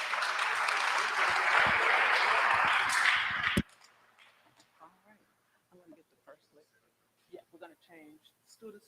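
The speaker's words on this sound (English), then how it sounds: "Give yourself a big round of applause." Loud, dense applause from an audience at an event, a crowd clapping together for about three and a half seconds before cutting off abruptly, followed by quiet scattered murmurs and faint talk.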